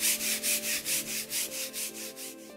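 A brush scrubs oil onto a home-gym barbell in about ten steady, evenly spaced rubbing strokes, close and clear with no talking.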